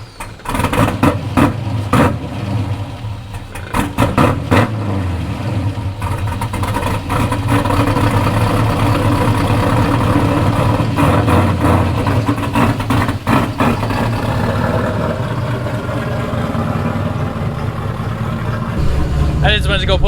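An LS-swapped Datsun 260Z runs at a steady, rumbling idle close by, with a few blips and clicks along the way and some brief voices over it.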